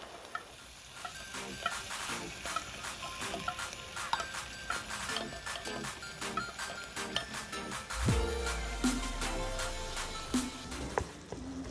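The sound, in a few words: tuna frying with kimchi in a pan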